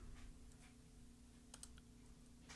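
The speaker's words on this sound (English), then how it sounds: "I'm trying to type something in real quick." Light typing on a computer keyboard, a few soft key taps scattered over a low steady hum, with a quick cluster near the end.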